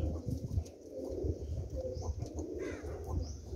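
Pigeons cooing in a loft, soft low repeated coos layered over rustling and shuffling, with faint chirps higher up and brief wing flutters, close by.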